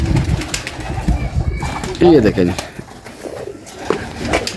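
Pigeons coo softly in a loft, low throaty rolling calls sitting under a man's close, continuous talk, with a few wing rustles around them.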